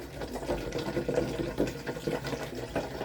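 Salt water pours steadily into a small aquarium tank for a rotifer culture setup, a soft, continuous trickle and splash at close range with no talking.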